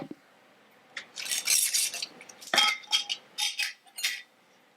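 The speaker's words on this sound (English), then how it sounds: "So what you need to do is each time before you eat it, mix it." A spoon stirs a separated mixture taken from the fridge, giving several clinking, scraping bursts against the container with short pauses between them, close and fairly quiet.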